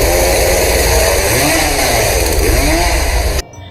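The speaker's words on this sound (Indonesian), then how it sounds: "Dara pun datang menggunakan gergaji mesin dan pertarungan itu terjadi." A chainsaw in a horror film: a loud, close motor running at a high buzzing pitch with wavering revs, then cutting off abruptly near the end.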